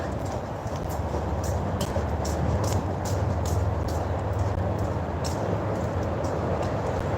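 A slowed coal train crosses the Harahan bridge, a steady broad rumble of rolling wagons with a rhythmic series of faint high clicks and squeals from the wheels, continuous throughout with no talking.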